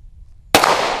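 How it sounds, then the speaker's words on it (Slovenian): A sharp, loud single shot from an archival firearm at an exhibition opening, an abrupt crack after quiet low rumble, followed by a brief decaying echo. "Pazi, bo kar strela."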